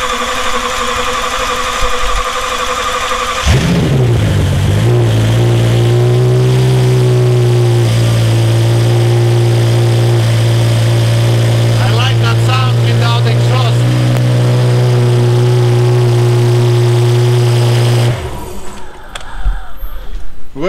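A Rolls-Royce engine, freshly reassembled after a Vanos cam adjuster fault, cranks and catches cold, revs up, then settles into a loud, steady idle that runs for many seconds before cutting off.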